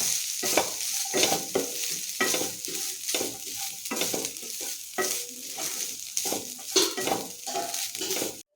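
Grated coconut frying in a pan with raisins for sweet coconut-filled banana, steady sizzle under repeated scraping and stirring strokes, close and fairly loud.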